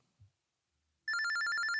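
A telephone rings after a moment of near silence: a rapid, bright electronic trill that repeats steadily and loudly, close by, with no voices.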